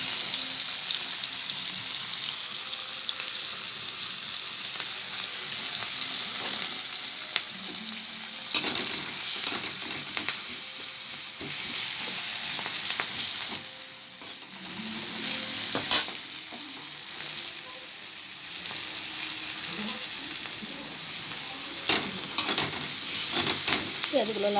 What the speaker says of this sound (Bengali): পেঁয়াজগুলো লাল লাল করে ভাজা ভাজা হয়ে যাক